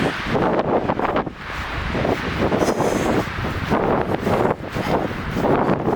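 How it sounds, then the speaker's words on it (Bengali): Strong wind buffeting the microphone in uneven gusts on the steep, rocky Gartang Gali trek, a loud rumbling roar that rises and falls with no voices. "হাওয়ার আওয়াজ নিশ্চয়ই শুনতে পাচ্ছেন।"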